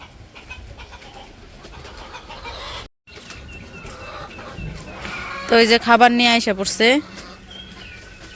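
Village chickens cluck inside their coop as feed arrives, moderately close, with one person talking over them and a sharp burst of loud squawking near the end.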